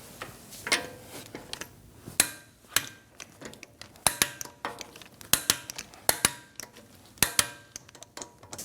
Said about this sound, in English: let's torque our lug bolts to 103 foot-pounds in a star form pattern